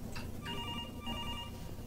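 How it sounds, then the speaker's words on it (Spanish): A mobile phone ringtone plays as a radio drama sound effect, two short bursts of electronic trilling ring over a low background hum. "El timbre de su celular lo hizo detenerse en seco."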